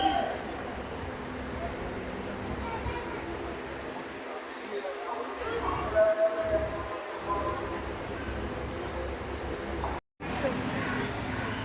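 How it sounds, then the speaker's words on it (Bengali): A passenger train pulls away on a journey to Ayodhya, its low steady rumble and rattle running throughout while people talk nearby and a brief tone sounds midway. "দেখো ট্রেন ছেড়ে দিল আমাদের।"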